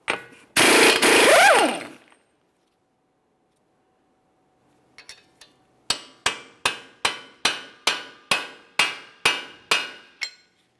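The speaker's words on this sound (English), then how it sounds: "we'll use a hammer and punch directly in the center to break the axle free from the wheel bearing hub" Sharp metallic hammer blows on a punch against a 2014-2018 Mazda 3 axle strike in a steady rhythm, about a dozen evenly spaced hits, preceded by a burst of loud mechanical noise.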